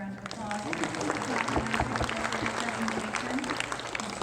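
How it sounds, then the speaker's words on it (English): Applause from a conference audience at the close of a MarTech presentation on go-to-market stacks: dense, steady clapping filling the room, with a voice speaking over it. "Please, everyone, join me in a round of applause."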